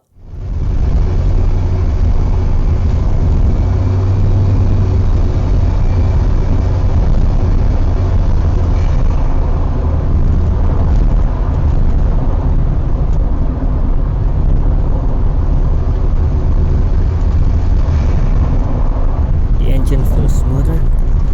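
A Volvo 960 Turbo engine, recently given a serviced turbo and a retune, runs with a loud, steady low rumble and drone throughout, with a voice talking over the top.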